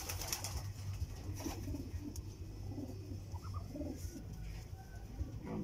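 Racing pigeons coo softly and repeatedly at a moderate distance, their low murmuring calls over a steady background hum, with no talking.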